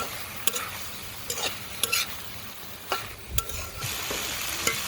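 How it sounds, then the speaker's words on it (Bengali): Chopped tomato and grated potato stir-fried in spices in a pan, with a steady low sizzle and several distinct scraping strokes of a spatula, close and clear with no talking. "টমেটো কুচিটা দিয়ে দিচ্ছি, কুচিটাও এই আলুর মধ্যে কষিয়ে নিব"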